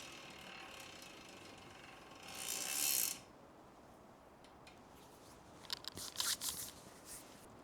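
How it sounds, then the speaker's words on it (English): Socket wrench ratcheting on a bike crankset bolt, a quiet burst of clicking near the middle and a second short cluster of ratchet clicks near the end, with faint background hiss and no talking. "Socket wrench."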